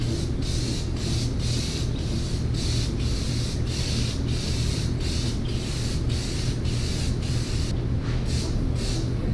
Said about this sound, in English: So I have to hold the can upside down in order to spray.